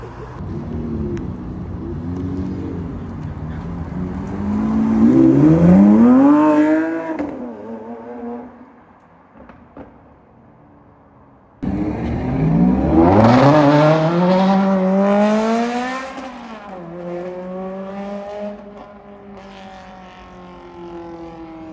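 A Lexus LFA with a naturally aspirated V8 revs hard through two long pulls, its rising engine tone climbing in pitch before easing off, with a short quiet gap between the loud close-up runs on a Vancouver road.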